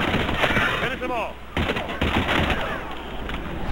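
Rapid bursts of gunfire from the video game Mass Effect 3, loud and near, with rattling shots tangled with battle noise and voices talking over the action.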